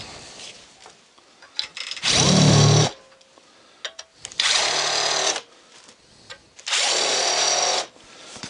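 Three separate bursts of a whining power drill biting into a metal lock plate, each lasting about a second, with quiet pauses and small clicks and handling noises between them.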